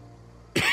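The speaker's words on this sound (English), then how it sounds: "Trying my best not to cough and everything." A single sharp cough bursts out suddenly near the end after quiet low background hum from a video game.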